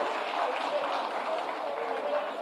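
A crowd at a government teacher-appointment ceremony claps loudly and continuously as a name is called, with a dense wash of applause and murmuring voices mixed underneath.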